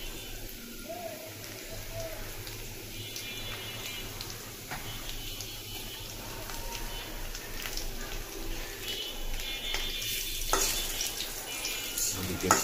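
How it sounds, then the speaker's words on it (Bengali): Onions fry in a pan with a steady sizzle and crackle, alongside cooking chicken seasoned with ginger-garlic paste, salt and chicken masala; utensils clink briefly and the sizzle holds at an even level throughout. "এদিকে পেঁয়াজ ভাজা হয়ে যাচ্ছে"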